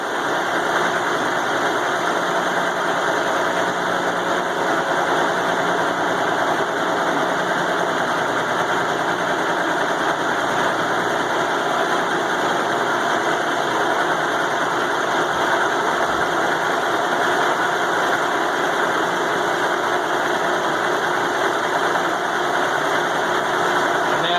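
A Sajo VF300 milling machine cutting inch-and-a-quarter-thick steel for a log splitter blade with a 2-inch 4-flute end mill, producing a loud, steady, unbroken grinding whine and machine drone at close range.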